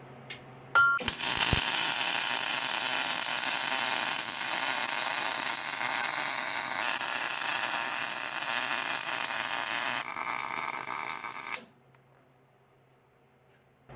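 Welding on a metal crossmember of a car, a steady loud crackling hiss that runs for about ten seconds, softens briefly, then cuts off into near silence.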